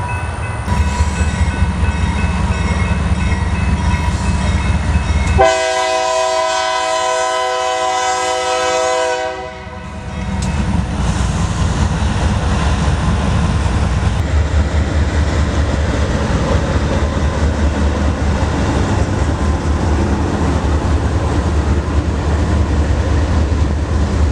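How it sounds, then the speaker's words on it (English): A train rolls past on the Macau Subdivision with a loud, steady rumble of wheels and cars, broken by a long, blaring horn blast partway through before the rolling roar continues. "Back on the Macau sub yet again to catch this train"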